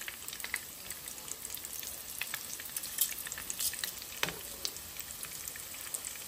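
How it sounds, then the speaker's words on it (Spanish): Potato taquitos fry in a pan of hot oil, giving a steady soft sizzle and crackle with scattered pops, close and alone with no voices. "aquí ya tengo los taquitos dorando"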